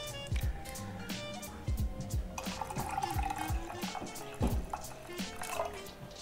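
Water is poured into a pot while making cocoa, giving a close series of splashing, dripping and gurgling pours that start and stop in short bursts.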